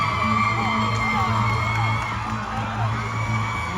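A large pageant audience cheers and whoops continuously, a dense, steady roar of voices with scattered yells, loud and sustained throughout.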